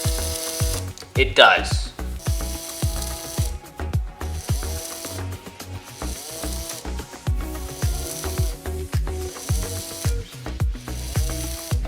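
Arduino-controlled servo in a homemade candy-dropping machine, giving repeated short mechanical whirs and clicks in a steady rhythm, close and fairly loud, with a brief spoken remark near the start.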